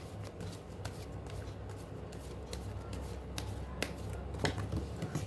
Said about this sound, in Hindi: ओहो, बहुत कार्ड गिर रहे हैं आज तो।